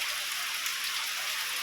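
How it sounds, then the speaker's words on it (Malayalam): Steady rain hissing continuously, a dense even patter with no gaps, fairly close. "നല്ല മഴ ചെയ്തല്ലോ"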